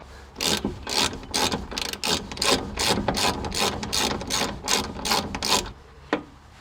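A ratchet works loose an upper control arm bolt on a Nissan/Infiniti G35-type suspension. It makes a quick run of loud, evenly spaced clicking strokes for about five seconds, then pauses before a final click.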